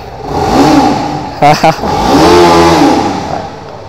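A 2025 TVS Apache RR 310 motorcycle engine runs up close, its throttle blipped into a rising rev and then settling back toward idle, with voices talking over it.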